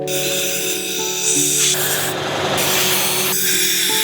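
Rubbing and wiping sounds from cleaning a Honda Ascot speedometer with Windex, a loud close scrubbing hiss that swells and fades in strokes, with a steady hum underneath and no talking.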